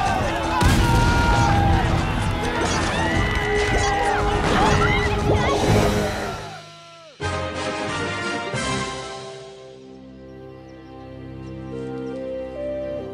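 Cartoon cannons in a Clash of Clans village fire with dense booming blasts, crashes and impacts layered under music, then cut off abruptly, leaving calmer sustained musical tones.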